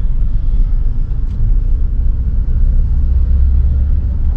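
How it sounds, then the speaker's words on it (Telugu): A car crawls slowly in second gear, a low steady rumble and vibration filling the cabin, loud and continuous with no acceleration and no voices. "సెకండ్ గేర్ వైబ్రేషన్ మొదలయ్యాయి."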